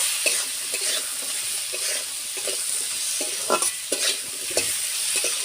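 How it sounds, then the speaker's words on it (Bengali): Potatoes frying in a pan while being stirred, a loud steady sizzle with repeated scraping and knocking of a spatula in an irregular rhythm. "আলুগুলো। নেড়ে নেব।"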